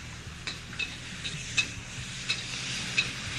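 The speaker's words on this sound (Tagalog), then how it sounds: "ilalagay na ang fried shrimps at ipiprito ulit. Haluin ang haluin hanggang sa matuyo" Fried shrimp stir-fried in a wok, a steady sizzle underneath as a spatula scrapes and clinks against the metal in irregular strokes, close and moderately loud, with no voices.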